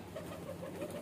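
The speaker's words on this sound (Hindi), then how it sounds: "ये आज का हमारा दूसरा कबूतर है" A male garra pigeon, kept as a pet, coos in a soft low rhythm, about four repeated coos close by with no talk.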